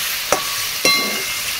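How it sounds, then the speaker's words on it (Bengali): Marinated chicken frying in a pan for a mango kasundi curry, a close, constant sizzle with two sharp scrapes of a spatula stirring the pieces. "চিকেনটা একটু সময় নিয়ে এভাবে কষাতে হবে"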